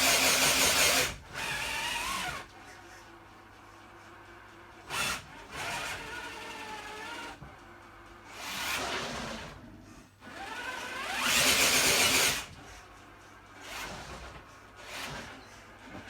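An Axial Capra RC rock crawler on a Hobbywing Axe R2 2800kv motor whines in several short bursts of rising and falling wheel spin, with quieter pauses in between, fairly close by.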